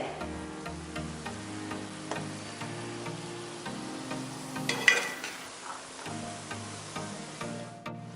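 Shakarpara, a sweet fried dough snack, fries in oil over a medium-low flame, giving a soft, steady sizzle and bubbling beneath prominent background music.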